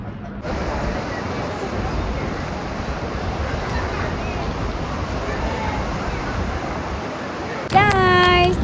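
Surf at Bondi Beach in Sydney washes in as a steady, even roar mixed with wind buffeting the microphone, running alone until a voice briefly begins at the very end.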